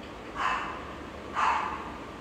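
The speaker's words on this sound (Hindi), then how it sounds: "कुत्ते की आवाज आ गई" Two short dog barks from some distance indoors, evenly spaced about a second apart, moderately loud over a low steady room hiss with no talking.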